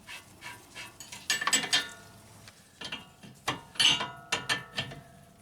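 A wrench ratchets a nut snug on a car ahead of an alignment, giving bursts of quick metallic clicks in several short runs, close and fairly loud, with no talking.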